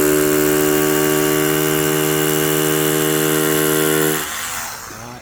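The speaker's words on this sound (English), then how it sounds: "I'm going to drill that brick and half" A loud power drill with a new bit whines steadily at high speed for several seconds, then its pitch drops and roughens as it bites into brick and winds down.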